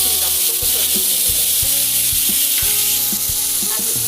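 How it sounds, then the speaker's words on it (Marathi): Garlic and tomatoes frying in hot oil in a kadhai for misal pav, a loud steady sizzle filling the clip with a few scraping stirs, close up and without talk. "थोडं लसूण टाकू, परतून घेऊ।"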